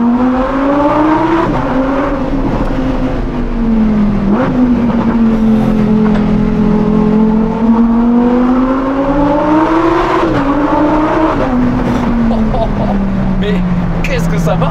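Lamborghini Huracan STO driven hard, a loud, close engine note rising and falling through repeated revs and gear changes for the whole stretch, with someone talking over it.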